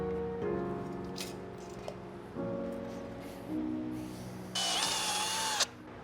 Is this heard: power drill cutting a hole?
yes